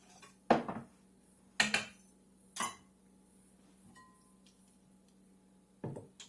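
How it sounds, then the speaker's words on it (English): Metal whisk clanking against the Instant Pot as roux is stirred into chicken and wild rice soup: four sharp, separate clinks spaced irregularly over a quiet room, with no talking. "we're just going to add this to our soup mixture while we whisk."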